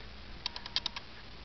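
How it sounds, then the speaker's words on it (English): Camera clicks come as a short burst of about six quick, light ticks, moderately close, against a quiet background with no talking. "I can hear the camera clicking"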